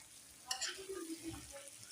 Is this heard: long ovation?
no